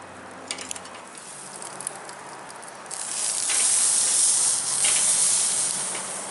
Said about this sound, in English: You can already hear the sizzling as soon as they go down.